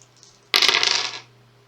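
Five dice tumble together across a tabletop in one brief clattering burst during a Shadows of Brimstone board game attack, close and fairly loud, with quiet background before and after.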